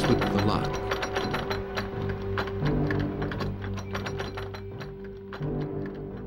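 Dramatized lock picking at a front door produces close metallic ratcheting and clicking, a busy run of small mechanical clicks that continues steadily.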